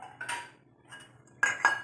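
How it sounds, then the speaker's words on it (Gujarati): A steel dish is set down into a cooking pot of dal, giving a few bright metallic clinks and clatters at close range, separated by quiet pauses. "હવે આપણે લેશું એક ડીશ, એને આમાં પ્લેસ કરશું."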